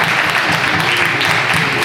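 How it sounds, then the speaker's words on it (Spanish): A church congregation claps loudly for the fathers at a Father's Day service, a thick continuous burst of applause close and full throughout. "quiero que la iglesia le dé un fuerte aplauso a los padres que tenemos en esta hora"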